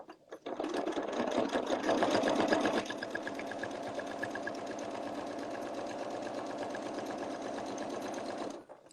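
A sewing machine stitches fabric hearts with a fast, steady whirring rattle that runs nearly nine seconds. It is louder at first, then settles to an even hum before stopping, close by, with no talking.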